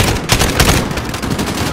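Dense, loud gunfire in Call of Duty: Modern Warfare, overlapping rapid shots close up in a continuous chaotic burst.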